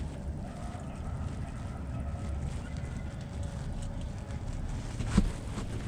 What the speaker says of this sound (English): this wind is ridiculous today.